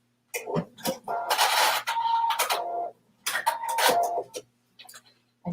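A sewing machine tacks stitches at the end of a 5/8-inch seam on kimono pocket fabric, sounding as a few short close bursts of rapid whirring stitching separated by brief pauses.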